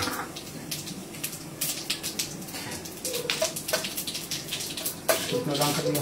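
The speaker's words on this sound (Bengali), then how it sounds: "তেল গরম হয়ে গেছে, আমি দিয়ে দিলাম শুকনো লঙ্কা 2টো ফাটিয়ে" Dried red chillies and cumin sizzle in hot oil in a home kitchen, a continuous close crackling hiss with sharper pops and spits, steady and fairly loud throughout.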